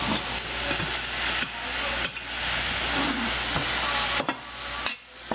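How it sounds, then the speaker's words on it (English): Ground turkey browning in a hot pan with a broad steady sizzle, broken by several sharp scraping strokes of a utensil pressing and scraping the meat across the pan bottom. "I am putting pressure on the meat when I'm scraping these off."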